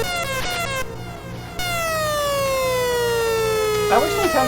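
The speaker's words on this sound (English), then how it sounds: "Oh, the ambulance came out." An electronic ambulance siren from an Atari Flashback Classics game on Switch wails with a long descending tone, loud and steady over game sounds, with a brief blip near the end.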